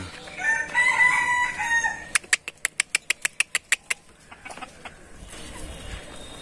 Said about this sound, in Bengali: এটার ভিতরে যে মুরগিগুলি দেখা যায়